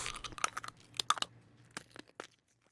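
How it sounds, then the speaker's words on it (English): Sharp, wet crunches from a man biting down on a finger in an anti-meth public service ad, a quick cluster of crackling bites with short gaps that fades to quiet at the end. "that sickening crunch when he bites down"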